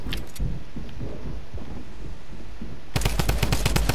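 Rapid bursts of gunfire in the video game Fortnite, a brief volley at the start and then a loud, dense string of shots near the end over a steady game background.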